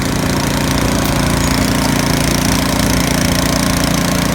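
A snow blower's small engine runs steadily at full throttle close by, a loud, even droning rumble with no break while it throws a stream of snow after an auger belt replacement.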